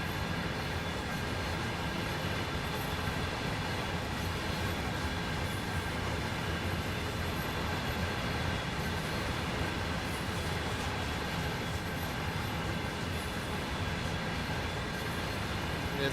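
Train with a caboose running in the video game Train Sim World 3, heard as a steady, dense rumble and rolling wheel noise that holds evenly throughout at moderate level, with no clear talking.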